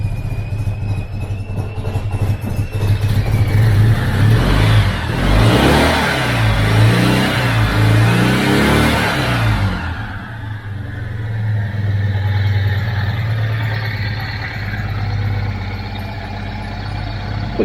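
A Citroën 2CV engine runs roughly after an engine swap, with a loud, uneven rumble that surges and revs through the middle before settling back to a rough idle, heard close up with no talk.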